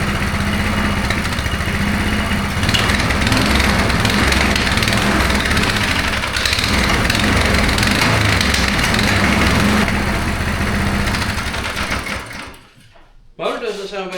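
A Coleman KT196 go kart motor runs steadily close by after starting, a loud rattly buzzing drone that holds for about twelve seconds and then drops off abruptly into short sputters.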